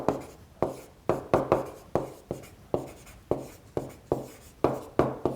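Pen or marker writing out words during an algebra lesson on inverse functions, heard as a close run of quick scratchy strokes and taps in an uneven rhythm, with no talk.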